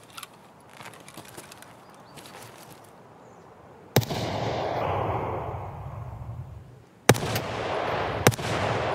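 Gunshots ring out in the video game Escape From Tarkov: a few faint distant pops, then a loud close shot followed by a sustained rumbling echo, with two more sharp loud shots near the end.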